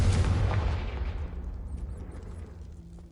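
Confringo fire spell explosion in the Hogwarts Legacy video game, a deep booming blast that starts loud and rumbles away over about three seconds, followed by faint small crackles.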